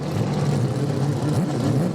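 A Mazda 787B race car engine revs loudly and steadily, its rotary note rising and falling in quick swoops over a dense, buzzing drone with no speech.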